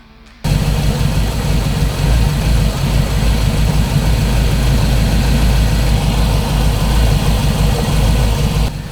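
A Mini Cooper S engine idles steadily and close by, a loud, even low rumble that starts abruptly and holds without revving.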